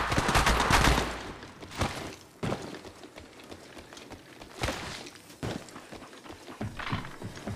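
Gunfire in the Apex Legends Mobile video game: several sharp shot bursts, some in quick clusters, over an uneven game soundscape.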